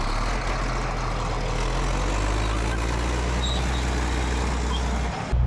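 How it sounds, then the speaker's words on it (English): A Caterpillar D8 bulldozer is driven nearby, its heavy diesel engine a steady, loud low rumble with a constant mechanical roar throughout and no talk. "Dave is driving the dozer."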